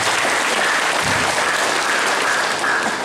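A crowd at a government meeting with the governor of NTT at a regency office in TTS breaks into dense, loud, sustained applause that stays steady throughout.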